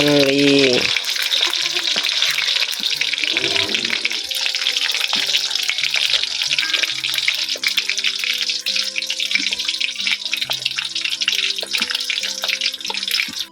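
Bakso meatballs frying in hot oil in a home kitchen, a loud dense crackling sizzle that fills the whole stretch close up, with a brief voice at the start and faint background sounds.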